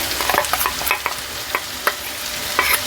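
A paste of green chilli, coriander, mint, coconut and cashew frying in a pan makes a loud, steady sizzle, broken by sharp spattering pops and stirring scrapes close at hand.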